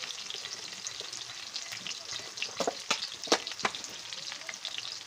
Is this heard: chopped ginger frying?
yes